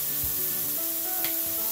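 Burger patties sizzle and char in a hot pan, a steady close frying hiss with faint stirring scrapes and a light clink near the middle.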